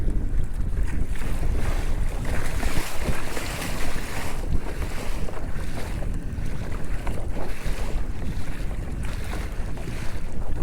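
Hobie Outback pedal kayak under sail in strong wind and choppy water, with constant loud wind buffeting the microphone and rushing, splashing water against the hull.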